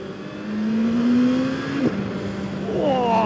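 Close and loud, a custom turbocharged Honda CBR900 motorcycle rated around 201 hp pulls hard at full power, the engine pitch rising then dropping at a quick upshift and climbing again with wind noise behind.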